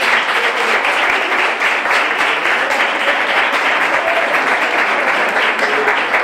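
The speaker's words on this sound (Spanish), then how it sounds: "pido un fuerte aplauso para nuestras monitoras María y Mari Carmen." Loud, sustained audience applause at an inauguration event, dense clapping from a crowd holding steady throughout with no one speaking over it.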